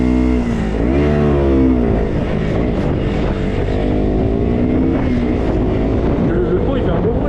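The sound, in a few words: motorbike with LeoVince exhaust revving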